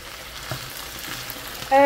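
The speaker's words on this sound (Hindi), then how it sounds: "ये जो है वो भिंडी भी मैं फ्राई कर रही थी" Okra (bhindi) frying in a pan, a soft, steady crackling sizzle close by, followed at the end by a brief sharp tone.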